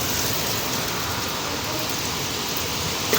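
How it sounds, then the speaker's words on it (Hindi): Heavy rain pours down during a violent village storm with hail, a dense, loud, continuous hiss and patter that fills the whole stretch without letup. "बहुत भयंकर तूफान आ रखा है दोस्तों"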